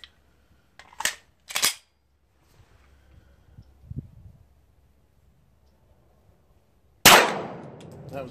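A handgun fires a factory round during a test of a lighter striker spring, with two sharp metallic clicks early on, then a single loud, close gunshot near the end that rings off briefly.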